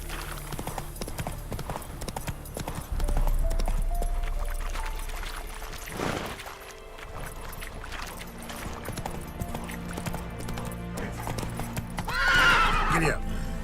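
In the Witcher 3 video game, a horse gallops with rapid, continuous hoofbeats and lets out a loud neigh near the end. Faint background game sound accompanies it, with no clear talk.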